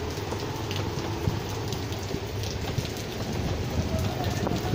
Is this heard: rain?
yes